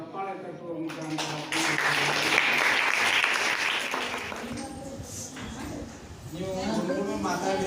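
School audience breaking into applause, a swell of clapping that rises after a voice, holds steady for a few seconds, then fades back into speech.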